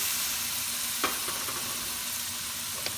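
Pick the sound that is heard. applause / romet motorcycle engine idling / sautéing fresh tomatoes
sautéing fresh tomatoes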